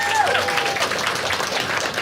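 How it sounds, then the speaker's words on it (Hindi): A live audience at a stand-up comedy show claps for a guest, producing a short burst of dense, even crowd applause with a brief voice at the start. "सब लोग ताली बजा दो"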